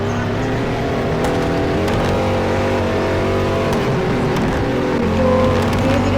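A Ducati motorcycle engine drones steadily and close while riding, holding an even, continuous tone throughout with no talk.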